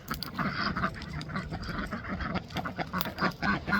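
White ducks dabble and splash in a muddy barnyard puddle, with soft quacks and wet slurping, nearby and fairly loud in a busy, continuous stream.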